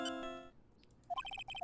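A cell phone ringtone chimes in a quick, bright melodic pattern of short repeated notes, close and clear, following a brief sustained tone.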